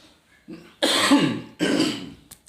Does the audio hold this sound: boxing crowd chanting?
no